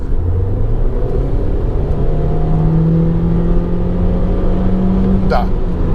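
A BAIC X75 car engine revs past 4000 rpm with a steady, loud droning hum that climbs slightly in pitch. Someone talks over the engine throughout.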